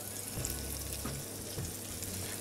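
Pork belly frying in a pan, a dense, steady sizzle and crackle close up with occasional small pops, filling the whole moment without any talk.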